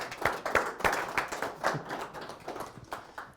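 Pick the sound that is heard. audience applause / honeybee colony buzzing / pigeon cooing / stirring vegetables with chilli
audience applause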